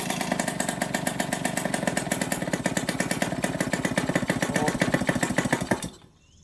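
A Yamaha YSR motorcycle engine idles a little low after a stator repair, its fast, steady buzzing pulse running loud and close for about six seconds before cutting off abruptly.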